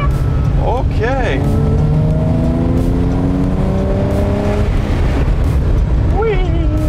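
A naturally aspirated 12-cylinder exotic supercar engine revs hard and loud up toward high RPM, harmonics sweeping upward then falling back, with excited voices talking over the roar.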